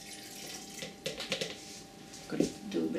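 Tap water pours into a container for making recycled handmade paper, a soft steady splashing with a few louder bursts of gushing, close by and without talk.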